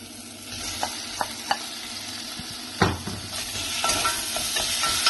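Meat sizzles in a pan with onions, ginger and tomatoes for bunny chow, a loud, close, continuous frying hiss punctuated by several sharp clinks and scrapes of stirring.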